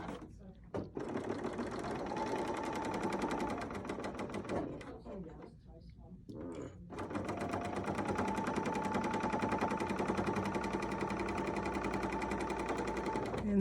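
A serger stitches the final seam of a fabric mug rug with a dense, rapid mechanical chatter. It runs steadily, pauses briefly in the middle, then resumes for a long, even stretch.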